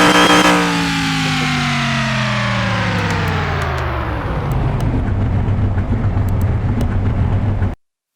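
Supercharged King Cobra Mustang engine in Car Mechanic Simulator 2021 revs up loudly, then drops back to a steady, rumbling idle for several seconds, with no talk over it.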